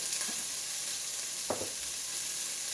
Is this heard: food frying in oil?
yes